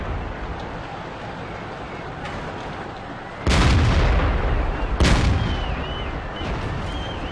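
Tank cannon fire in a video game, with a steady engine rumble broken by two loud booming shots a second and a half apart, the second trailing off into a rolling echo.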